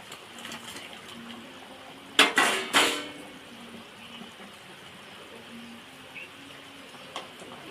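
Koi fish pieces drop into a pot of thin fish curry with two or three quick, close splashes and a clink, then the pot simmers softly.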